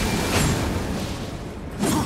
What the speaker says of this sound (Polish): Strzela fireballami.